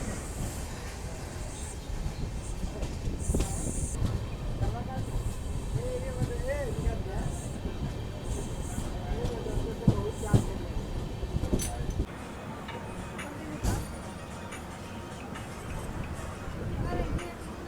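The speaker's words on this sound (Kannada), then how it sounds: "ಟ್ರೈನ್ ಜರ್ನಿ ಒಂದಿದ್ರೆ ಸಾಕು, ಎಲ್ಲ ಇದರಲ್ಲೇ ಬರುತ್ತೆ ಡಿಫ್ರೆಂಟ್ ಮ್ಯೂಸಿಕ್ ಸೌಂಡ್" A Pune to Sainagar Shirdi passenger train runs along the line, heard from on board as a steady rumbling clatter with rattling wagon noise and sharp squeals, while voices talk intermittently over it.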